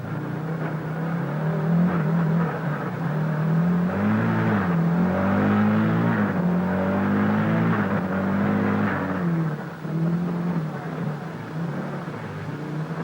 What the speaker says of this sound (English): Meanwhile, inside Stig Blomqvist Audi, here's the driver's eye view of the action as he slips and slides his 400 horsepower projectile around Brands